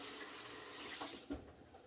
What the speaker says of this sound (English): And now we're really just going to add enough water to cover the bones.